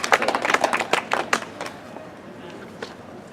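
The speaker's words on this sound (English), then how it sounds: "Please, round of applause." A short burst of clapping from a group, dense for about a second and a half, then thinning out into scattered claps.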